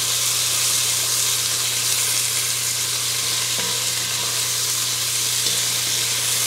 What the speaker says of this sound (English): We're going to let this saute for a little bit before we add our garlic